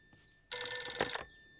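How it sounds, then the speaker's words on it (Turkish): A telephone gives one short, bright electronic ring, lasting under a second, close and clear against a quiet room, with no speech over it. "Telefon sana Ömer abi."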